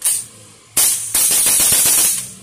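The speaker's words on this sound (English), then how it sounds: "Try pa natin putok." A King Arms TWS9 SBR airsoft gun fires a quick string of sharp, close shots after a brief opening burst, the rapid pops running together for over a second.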